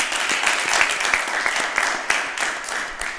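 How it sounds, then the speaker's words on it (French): A studio audience at a French quiz show, including students from a state lycée, applauds for itself in loud, dense, continuous clapping with a few sharper claps poking through. "j'aimerais qu'ils applaudissent pour eux-mêmes"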